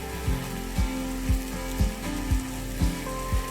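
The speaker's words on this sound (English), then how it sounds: "while my burger patties are cooking" Turkey burger slider patties sizzle steadily in a pan, a constant close frying hiss with regular soft knocks recurring about every half second.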